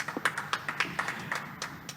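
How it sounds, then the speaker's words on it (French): Light, scattered hand claps from a small group in a radio talk show studio, fairly quiet and brief, with uneven rhythm. "On peut l'applaudir bien fort,"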